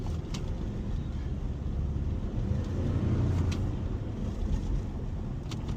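A Toyota Tacoma engine revving while driving, a steady low rumble with road and wind noise that swells gradually in the middle, no voices heard.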